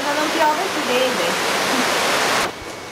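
Rain pours steadily in the Maldives, a dense, even hiss with a faint voice briefly over it early on, then dropping slightly quieter near the end.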